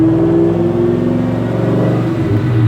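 A supercharged Cobra engine revs hard while the car runs on dyno rollers, a loud, steady mechanical drone with a rising whine that builds toward the end, with no talking over it.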